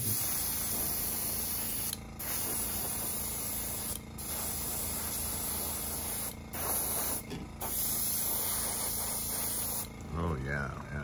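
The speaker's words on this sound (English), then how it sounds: "I figure when I get the airbrush out, I might as well airbrush a bunch of things all at once." Airbrush spraying paint onto a miniature xenodragon, a steady close hiss running almost unbroken with a few brief pauses, while a voice speaks over it near the end.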